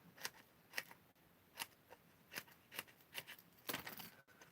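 Scissors snipping paper scrap end bits, about a dozen crisp close cuts in an uneven rhythm over a quiet background, with no talking.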